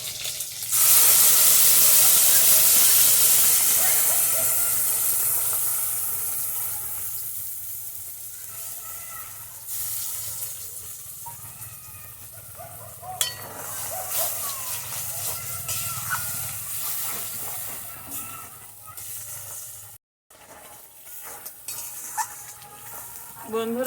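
Slit green chilies and spinach paste hit hot oil in a pan for a khasla paneer dish, giving a loud hiss that eases into a steady crackling sizzle, with occasional stirring and utensil clinks throughout.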